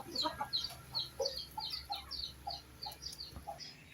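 Newly hatched chicks peep in quick high bursts among the clucking of farmyard chickens at feeding time, close by and repeating steadily throughout.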